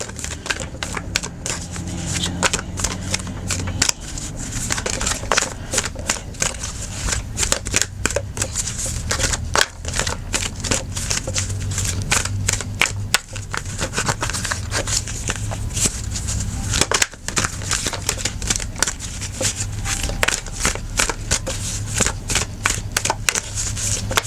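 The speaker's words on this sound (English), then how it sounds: "So I'm going to pull an overall oracle card for you." Oracle cards are shuffled for a tarot reading, a continuous run of quick papery riffling and flicking close by, repeating steadily over a low background hum with no talk.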